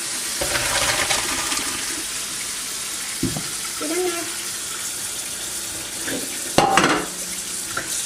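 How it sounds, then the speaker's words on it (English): Cold tap water pours over cooked gluten-free macaroni in a colander, a steady close rush of water with clinks and shakes of the pasta, and a voice speaks briefly over it. "drain this in the colander and just get some cold water running"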